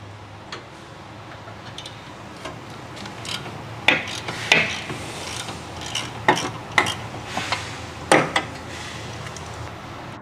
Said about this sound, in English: Remove the retaining bolts using the large ratcheting wrench with the 15mm deep socket.